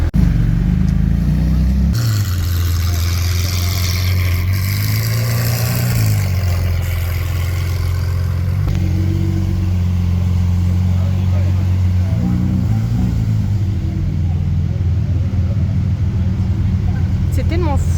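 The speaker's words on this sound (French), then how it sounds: "GT2 RS en action." A Porsche 911 GT2 RS sports car engine runs and revs close by, a loud, rumbling drone whose pitch rises and falls in several surges over the whole stretch.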